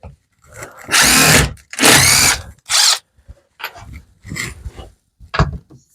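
A power drill removes screws from the bottom of a piece in three loud, close whirring bursts. Softer clicks and handling noises follow between the runs.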